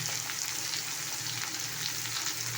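Bitter gourd and potato frying in hot oil with salt, a steady dense sizzle running unbroken and close throughout, with a low kitchen hum beneath.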